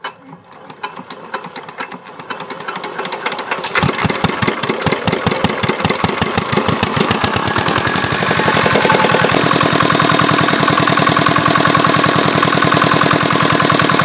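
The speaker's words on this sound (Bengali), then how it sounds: "ইঞ্জিনের সাউন্ড তো একবার ডাইছে একবার নতুনের মতো।" A small engine sputters and catches unevenly, dropping away then firing again, building into a loud, steady mechanical running with rapid pulsing that becomes smoother and fuller toward the end.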